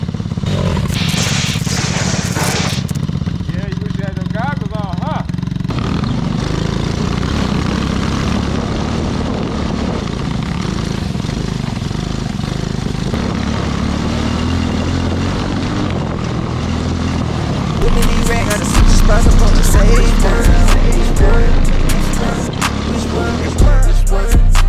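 A tuned 90cc go-kart engine runs loud and steady for about 25 seconds, its buzzing drone holding near one pitch before swelling louder and harsher toward the end, with no talking.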